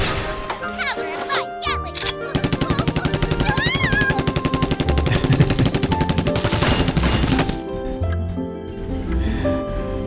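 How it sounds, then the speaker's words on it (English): Rapid rattling bursts of a Gatling gun wielded by a marine military engineer in the mobile game Exos Heroes, a sustained fast rhythmic volley lasting several seconds, with game music and effects around it. "She's going to clobber that enemy using her Gatling gun."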